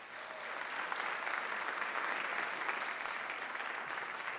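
A school district awards ceremony audience applauds for an administrator-of-the-year winner, producing a continuous, even wash of clapping at moderate volume with no distinct peaks.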